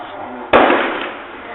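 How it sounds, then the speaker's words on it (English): A single sharp gunshot rings out during a bank robbery in Uromi, sudden and loud, its blast rolling off over about a second into a noisy outdoor background. "See how they do shoot."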